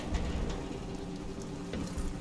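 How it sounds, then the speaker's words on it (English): Rain falls steadily in the video game Dishonored: Death of the Outsider, a continuous soft patter with a few sharper drips, with no voices. "And it's raining."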